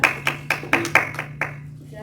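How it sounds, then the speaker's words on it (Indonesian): Students in a classroom give a short round of clapping for a classmate, about seven distinct, evenly spaced claps that slow and thin out toward the end, with no voices. "beri tepuk tangan untuk temannya"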